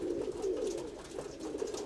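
Domestic pigeons kept by a pigeon fancier coo nearby in low, throaty, repeated rolling calls that overlap and pulse unevenly, heard clearly with no speech over them.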